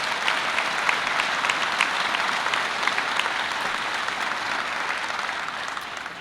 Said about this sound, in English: They all deserve a big round of applause for this event.